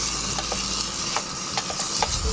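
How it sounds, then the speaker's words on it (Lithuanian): Onions and chicken fry in a pan at a hunters' cabin, a continuous hiss of sizzling with a few sharp stirring clicks and scrapes spread through it, close and steady, with no talk. "Svogūnai su vištiena"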